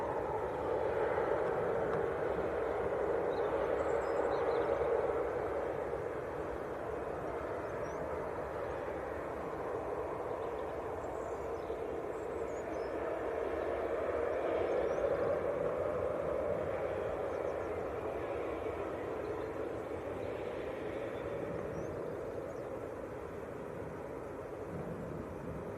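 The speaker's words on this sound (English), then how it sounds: "Swinging it round for the Lufthansa from Munich on short finals. A320 Neo, this one." A Lufthansa Airbus A320neo from Munich on short final at Manchester Airport, heard as a steady, fairly distant broadband jet roar with wind noise that swells slightly around the middle and fades toward the end.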